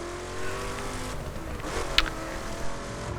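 A Chevrolet Camaro drives a lap of a circuit, its engine a steady, continuous drone with a slight swell partway through, heard from inside or close by without talk.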